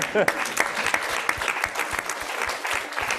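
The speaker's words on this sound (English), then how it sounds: "let's give that a round of applause" Applause from a conference audience after a panel Q&A, a steady wash of many hands clapping throughout with a few sharper individual claps and brief voices mixed in.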